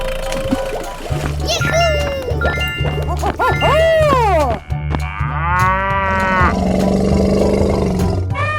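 Cartoonish cow moos from a 3D animal slide game, several drawn-out lowing calls layered over a steady looping musical backing, with roar-like animal cries mixed in and loud throughout.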